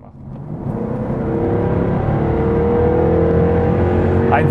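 A sporty car engine builds steadily under hard acceleration, a loud and continuous rising drone that stays close throughout.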